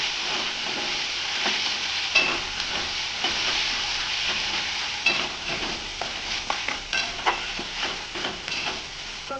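Spice paste frying in oil in a pan for a Bengali spiced meat dish, a continuous sizzle punctuated by repeated scraping strokes of a spatula, near and steady, no voices.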